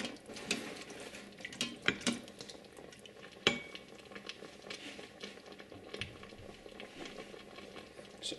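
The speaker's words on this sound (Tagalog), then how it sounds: "ilalagay ko na itong liver spread at hahaluin ko lang ito sandali" Liver spread being stirred into a goat stew in a pot, with faint wet scraping and clicks of a spoon against the pot, plus a low bubbling behind.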